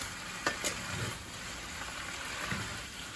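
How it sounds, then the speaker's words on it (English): Spicy shrimp stir fry being stirred in a pan, a soft, steady sizzle with a couple of light scraping clicks near the start, fairly quiet and close. "So let's stir it for a little bit."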